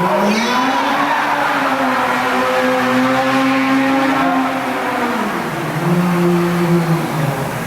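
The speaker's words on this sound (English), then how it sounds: "Let's go really fast. And go around. Burn it, rubber." At an extreme stunt show, a car revs hard and spins its tires, giving a sustained, loud squeal of burning rubber with the engine note rising and dipping throughout.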